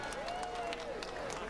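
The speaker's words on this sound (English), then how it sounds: "And people applauding." Crowd applause outside in Prague after doors close on the hour, steady scattered clapping from a nearby crowd with a continuous tone and some murmur mixed in.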